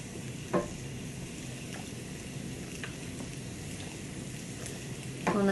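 Zucchini slices brushed with olive oil sizzle steadily on a hot griddle, an even close frying hiss throughout with a couple of brief clatters from handling.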